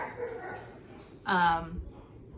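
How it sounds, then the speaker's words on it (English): A dog gives a short, sharp bark-like yelp close by, with faint whimpering from the household's dogs and quiet household background around it. "I'm sorry about my dogs, they're being crazy."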